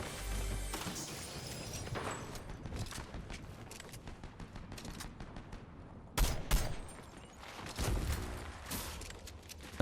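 Gunfire in Fortnite Zero Build combat, a steady stream of shots with sharper, louder bursts near the end, no talking.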